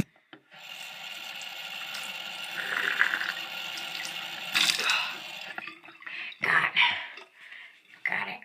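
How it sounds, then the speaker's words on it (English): A bathroom tap runs steadily, with water filling a mouth, followed by gargling and throat noises toward the end; fairly close, with no speech. "Let's fill my mouth up with water."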